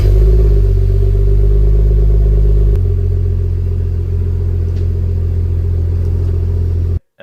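A BMW 335i E92 engine with a newly fitted catback exhaust runs loud and close in a deep steady rumble, its note dropping to a lower idle partway through before cutting off near the end.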